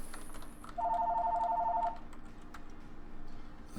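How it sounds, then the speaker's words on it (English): A telephone rings with a single warbling electronic trill lasting about a second, moderately loud against a quiet room hum. "Phone call."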